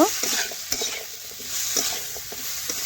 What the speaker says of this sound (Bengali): দিয়ে দিলাম ভেজে রাখা আলু পটল বরবটি গাজর এটাও ভালোভাবে আমি মিশিয়ে নিচ্ছি সব কিছু একসাথে কষে নেব